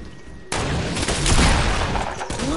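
Shotgun fire in a PS4 video game, a loud sustained burst of blasts with booming low end that starts abruptly and runs for about two seconds before cutting off.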